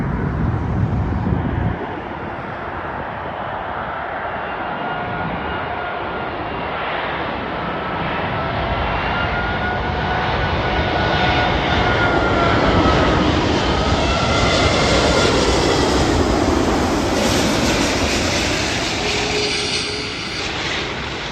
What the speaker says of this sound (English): I'm waiting for the Emirates A380 airbus to land in a couple of minutes